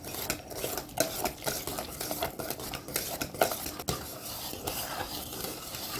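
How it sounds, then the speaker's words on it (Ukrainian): White chocolate being stirred in a pot until it melts, a continuous rhythmic scraping of a spoon against the pot with repeated soft knocks, close and fairly quiet, no talking. "Білий шоколад додаємо. І перемішуємо, поки розтане шоколад."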